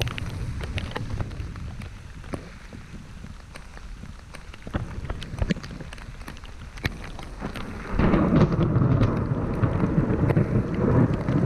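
Rain falls outdoors during a landscape photography outing, a soft patter with scattered drops and taps at first, then a sudden heavier wash of rain takes over for the last few seconds.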